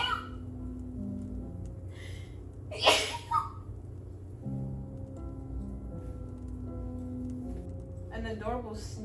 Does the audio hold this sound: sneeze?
yes